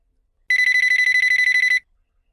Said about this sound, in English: We say the phone is ringing.